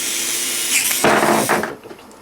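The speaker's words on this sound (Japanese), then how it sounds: "ここからプラスドライバーで、" A Phillips screwdriver tightens the handle screw on an IDEX (Rheodyne) 7725 injector, with close, short scraping and clicking bursts in a brief run and no talking.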